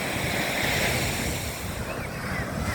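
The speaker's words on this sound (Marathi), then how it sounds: "सुंदर असं बीच आहे." Ocean waves at Basant Nagar beach in Chennai roll in as a continuous broad wash of surf, mixed with wind buffeting the microphone, steady and fairly close.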